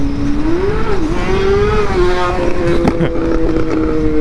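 A motorcycle engine revs near the microphone in city traffic, its tone rising and dipping before settling into a steady drone, with background road noise throughout.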